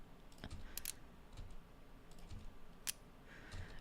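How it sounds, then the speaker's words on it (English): Mechanical pencils are tapped and clicked against each other and a surface, producing a few sharp, bright clicks and softer taps spaced irregularly over a quiet background, recorded close up as one-shot samples for beat making. "Oh, no, these are pencil sounds."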